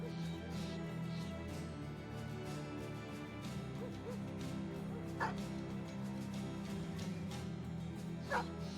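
Dogs barking and yipping in a medieval combat video game, several barks and whimpers spread over an ambient game soundtrack with a couple of sharper yelps near the end.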